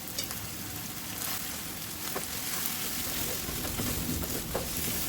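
Beef tripe fries dry in a pan with a dense, continuous sizzle and scattered small crackles, close and steady, with a faint voice in the background.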